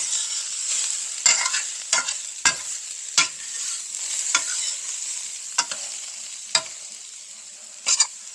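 Water with beef bouillon for Italian wedding soup is stirred in a pot, with sharp spoon knocks against the side at uneven intervals over a constant bright hiss, close up and without talk.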